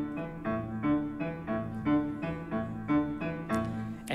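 A tango-style rhythmic dance beat repeats steadily, with an accented pulse about every half second. It plays clearly, with no talking over it.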